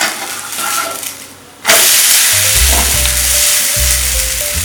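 Pepper adai dosa (milagu adai) batter hits a hot pan and sizzles loudly and steadily, a sudden burst of frying after a quieter lead-in, with bubbling crackle continuing close by.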